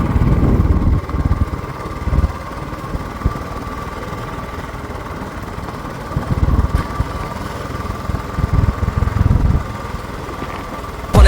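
A motorbike engine rumbles and idles as riders head off on a trek near a hilltop temple in Solan, a steady low drone with several louder surges, close and continuous.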